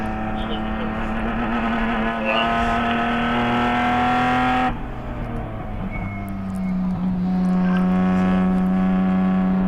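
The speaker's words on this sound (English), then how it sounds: "Nice downshift rev match" A ChampCar endurance race car downshifting with a rev match on the front straightaway, a loud sustained engine drone whose pitch drops then jumps back up with a quick blip, heard close and alone.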